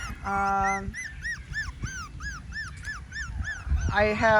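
Schnoodle puppies in a kennel yip and whimper in a quick run of high, repeated cries, close by, with a voice speaking briefly at the start and end.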